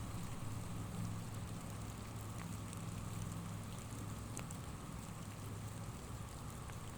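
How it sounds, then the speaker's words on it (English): Steady rain falling during a pro disc-golf round, a continuous hiss of drops on surfaces with a few faint ticks and no voices. "the rain started coming back down a little harder"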